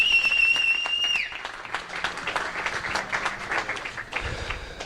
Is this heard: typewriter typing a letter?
no